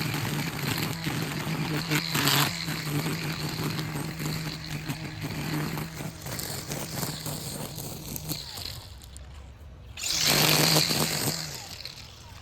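A string trimmer whines steadily as it cuts grass on a sloped hillside yard, its buzzing engine note rising and falling with bursts of revving, close and continuous throughout.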